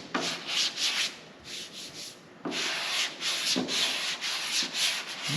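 A sandpaper block is pushed back and forth by hand across wood in brisk rhythmic strokes, a close raspy scratching with short pauses between passes and a brief break midway.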